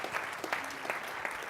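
Brief applause from an audience at a CIO executive summit, a dense patter of clapping at moderate loudness with a few sharper claps standing out.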